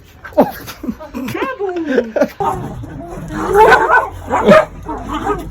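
A dog barks and yips excitedly several times, close by on a patio in Cusco, Peru, while people talk and laugh over it in an animated exchange.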